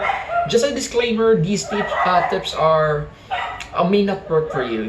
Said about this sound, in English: There are some dogs in their neighborhood, and I would like to really apologize for the background noise.